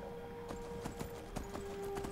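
Horse hooves from the video game Skyrim clip-clop in a steady trotting rhythm, quiet and continuous over a constant low hum.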